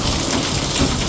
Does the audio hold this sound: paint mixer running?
no